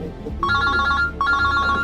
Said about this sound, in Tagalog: agun-uni ti cellphone mo.